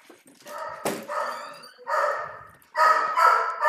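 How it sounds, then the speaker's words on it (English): A dog barks excitedly at the mailman, three loud, sharp barks with yipping edges spaced about a second apart, close by and with no talk. "Why is my dog going so crazy, dude?"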